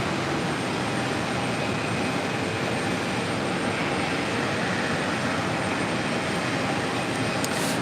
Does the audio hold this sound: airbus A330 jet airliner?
yes